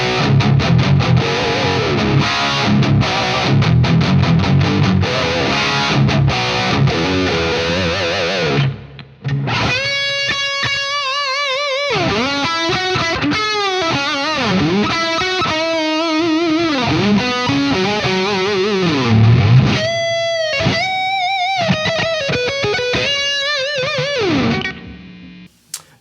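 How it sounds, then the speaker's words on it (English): Electric guitar through a Soldano Astro-20 amp on its red channel, big, round high-gain distorted tones: chugging riffs and sustained notes, then lead phrases with bends, brief pauses between passages, no talking. "Red is pure Soldano DNA, those big, round, high gain tones."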